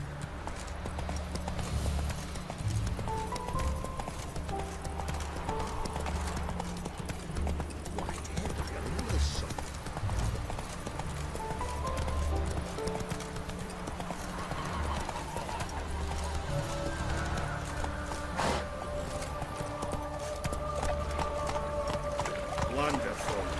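Roach, the horse in The Witcher 3, gallops in a steady rapid clip-clop of hooves under background music and game ambience.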